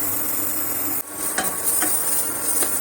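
Eggplant and bitter gourd fry in a pan with a constant close sizzle, broken by a lid or utensil clatter and a few light metallic taps. No voices are heard.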